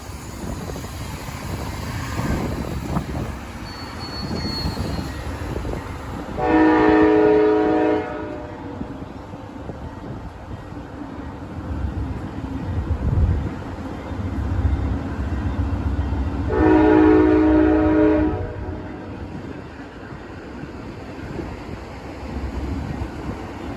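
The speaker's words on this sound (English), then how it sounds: "The train's about to leave." An Amtrak Coast Starlight train departing on a street-side platform sounds its horn in two long, loud blasts several seconds apart, over a steady rumble of the rolling train.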